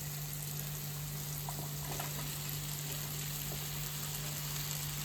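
Okra (bhindi) sizzles and fries in hot oil-released masala, a soft steady hiss with a few faint crackles, alone and fairly quiet under a constant background hum.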